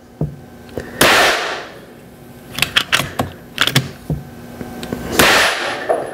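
Two sharp rifle cracks, each with a ringing, decaying tail, are fired outdoors at a steel gong fitted with a small exploding target. Between the shots comes a cluster of quick mechanical clicks and knocks.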